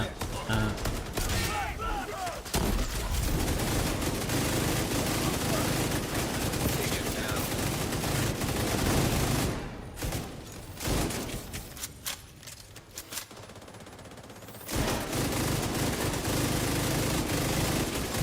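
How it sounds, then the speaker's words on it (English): Rapid automatic gunfire from The Division 2 fills most of the stretch as a loud, dense barrage that drops out briefly midway before resuming, with a voice speaking at points. "This rate of fire is really fucking with the audio though."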